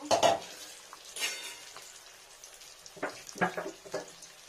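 Fried rohu fish lifted out of a pan with a spatula, with soft sizzling oil and several sharp metallic clinks and scrapes against the pan.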